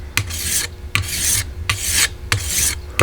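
A single-bevel broadhead is sharpened with repeated rasping swipes along its edge, about five rhythmic strokes, each opening with a sharp scrape, close and clear with no talking.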